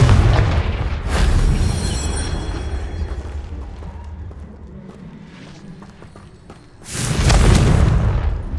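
A Confringo spell explodes in the video game Hogwarts Legacy, a heavy deep boom with a crackling tail that fades over several seconds, then a second loud blast, both close and powerful.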